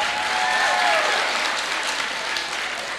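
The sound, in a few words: audience applause for Elena Mohati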